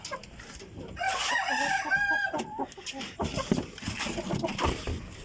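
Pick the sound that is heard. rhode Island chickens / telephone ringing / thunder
rhode Island chickens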